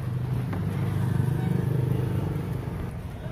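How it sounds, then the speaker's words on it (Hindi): A Chevrolet Spark with a faulty throttle body sensor idles up close with a low, steady engine hum that pulses and wavers in speed, the idle rising and sagging slightly over a few seconds. "ये मेरा शेवरोले स्पार्क गाड़ी है और इसका जो प्रॉब्लम है वो आरपीएम फ्लैक्चुएट हो रहा है।"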